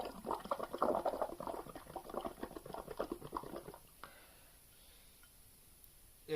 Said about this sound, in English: Using a straw now, and I'm just going to froth it up.